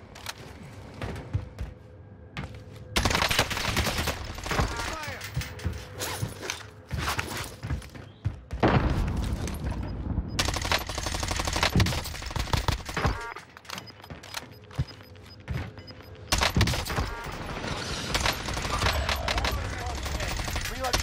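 Cold War XM4 rifle firing in Call of Duty: Warzone, repeated rapid automatic bursts separated by short lulls, loud and close, with footsteps and game sounds between the bursts.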